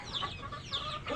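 Chickens cluck repeatedly on a farm where goats are kept, a steady close flock of short clucks with no talk over them.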